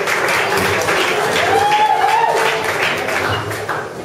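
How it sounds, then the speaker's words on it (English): Crowd applause at a live gathering in Massachusetts, a sustained burst of clapping that holds steady and then tapers slightly near the end, loud and filling the room. "Give him a round of applause."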